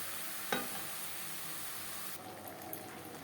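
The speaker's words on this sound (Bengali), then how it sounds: "হাই টু মিডিয়াম ফ্লেমে 5-6 মিনিট মাংস বেশ ভালো করে কষিয়ে নেব।" Mutton frying and being stirred in a pan over a medium-high flame, with a steady close sizzle, one sharp scrape near the start and light clinks of the spoon toward the end.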